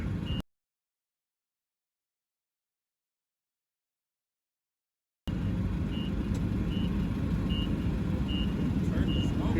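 A truck backs up with evenly spaced reversing beeps over a low engine rumble, heard after a stretch of silence, with faint background noise.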